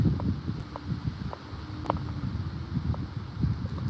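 Steady low rumbling wind buffeting the microphone, with gusty broadband noise throughout and a few faint clicks.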